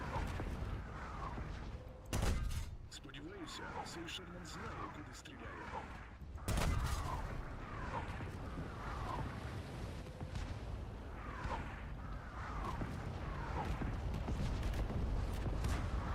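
Artillery fire in the World of Tanks video game's Operation Overlord mode: two sharp, loud booms stand out over continuous game noise, while a player talks throughout.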